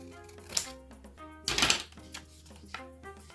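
Scissors or a cutter snipping through a paper stamp embellishment for crafting, with a few sharp clicks and one louder crunching cut in the middle, close and fairly quiet over faint background music.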